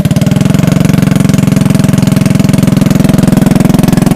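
A three-wheeler's engine runs with its muffler unbolted, a loud, close, raw chugging exhaust pulsing rapidly and steadily throughout with no voices.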